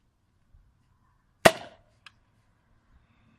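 A Krono Madness 18kg blaster fires a single sharp shot outdoors, a loud crack with a short decaying tail, followed by a faint small click moments later in otherwise quiet surroundings.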